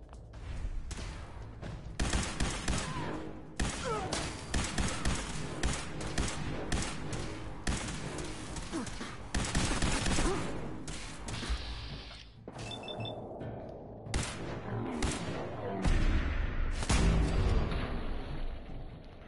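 Dense, continuous gunfire and impacts from the video game Fallout 4, with bursts of shots, crashes and thuds filling the whole stretch at steady loudness, no voices.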